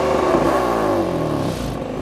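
A 2015 BMW M4 Coupe accelerating hard, its engine note rising steadily in pitch as the revs climb, loud and close from start to finish.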